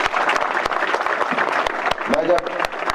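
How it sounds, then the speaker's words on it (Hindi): Schoolchildren at a government senior secondary school event applauding loudly, a dense burst of clapping from many hands that holds steady throughout, with sharp individual claps standing out. "जोर से ताली बजाओ"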